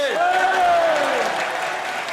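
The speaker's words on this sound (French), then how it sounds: "Du bruit pour Thierry, s'il vous plaît." A crowd applauds and cheers loudly and continuously, a dense wash of clapping with a rising whistle-like voice on top, fading slightly toward the end.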